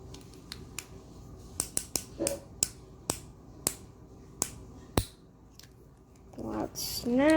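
A Moyu RS3M speed cube's tension setting is adjusted with a screwdriver, giving a series of sharp, close snaps and clicks at uneven intervals, followed by a brief rising rustle at the end.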